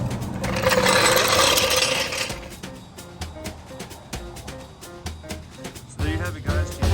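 Ratcheting clicks and faint mechanical creaks from a car jack being lowered by twisting its handle beside a 1991 Acura Integra after a tire change, coming in short irregular bursts after an opening stretch of broadband noise.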